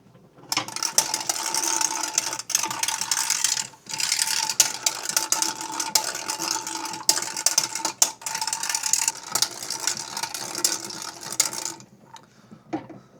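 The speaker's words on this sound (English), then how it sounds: "continuing on with the milling" A hand-cranked food mill pressing backyard-harvested fruit gives a continuous close mechanical grinding and ratcheting churn with faint clicks and brief dips, running for about twelve seconds before easing off, with no voices.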